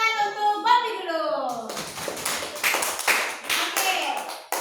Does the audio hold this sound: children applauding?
yes